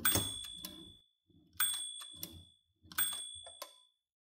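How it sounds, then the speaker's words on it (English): The bell of a 1934 Remington 16 typewriter rings three times, each a bright sustained ding with a mechanical clatter, spaced about a second and a half apart with quiet gaps between. "This is the sound of the bell."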